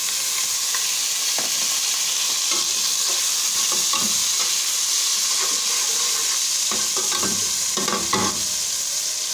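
Garlic and spices sizzle in a pan of hot oil for beef pulao while a spoon scrapes and stirs, steady bright frying with intermittent clinks, close and loud with no talking.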